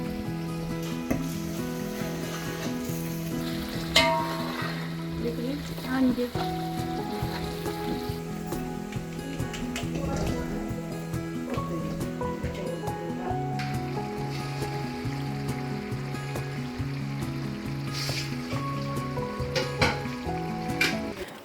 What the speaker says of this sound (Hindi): अब अम्मी अब सालन को भून रही हैं